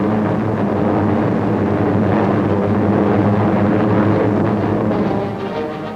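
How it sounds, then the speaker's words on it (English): Carrier planes of a 1945 naval fleet drone overhead in a dense, steady roar that holds loud and unbroken, then eases slightly at the end, with no voices. "And carrier planes fill the skies overhead."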